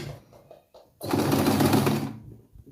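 A Silvercrest sewing machine runs in one steady burst of rapid stitching for about a second, loud and close, with quiet handling noises before and after.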